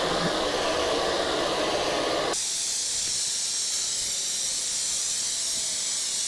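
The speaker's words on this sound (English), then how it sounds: "The reach of the spray full open is easily 20 feet." A Petra Tools backpack fogger sprays at full open with a loud, steady hiss for about two seconds, then the sound abruptly changes to a thinner, continuous hissing spray that carries on to the end.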